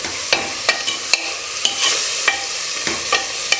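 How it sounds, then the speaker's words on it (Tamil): Tomatoes are sautéed in masala for a bottle gourd biryani, with a spoon scraping and stirring the pan in a steady rhythm of sharp clicks over a constant close sizzle of frying. "தக்காளி நல்லா மசிஞ்சு வர்ற அளவுக்கு இதை நல்லா வதக்கிக்கலாம்."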